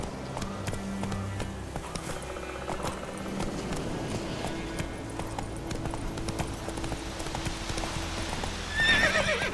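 A horse gallops and neighs in The Witcher 3, with rapid rhythmic hoofbeats throughout and a loud whinny near the end, all set over game background music.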